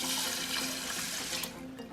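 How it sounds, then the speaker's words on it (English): Two cups of water poured onto brown rice in a pot, a steady close splashing, gurgling flow that runs continuously for about two seconds before easing off at the end. "I have 2 cups of brown rice, and I'll put in 2 cups of water."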